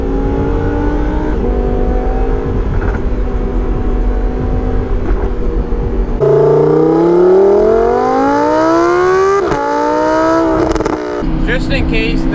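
Lamborghini Huracan engine heard from inside with the windows down, a loud steady drone that rises in pitch under acceleration partway through, with wind and road noise throughout.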